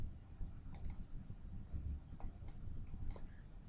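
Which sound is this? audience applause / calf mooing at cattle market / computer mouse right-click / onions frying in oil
computer mouse right-click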